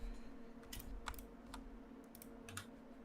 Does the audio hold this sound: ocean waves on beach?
no